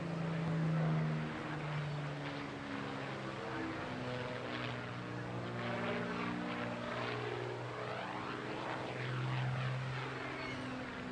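A Hawker Hurricane Mark II propeller fighter in all-black night fighter colours flies at an air show, its piston engine droning steadily with a pulsing, wavering pitch as it passes at moderate distance, with no talk over it.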